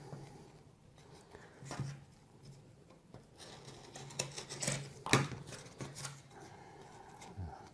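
A blade cuts through felt for dice tower components, a close scratchy scraping and snipping texture with uneven sharp strokes that grows busier and louder toward the middle, then eases off, with no talking.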